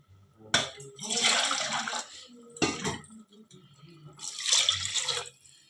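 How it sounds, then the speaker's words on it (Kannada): Water pours into a pot of rice for cooking in a few separate gushes, each a splashing rush lasting about a second, with short quiet gaps between them. "ನಾನೀಗ ನೀರು ಹಾಕೊಳಕತ್ತೆ ನೋಡ್ರಿ."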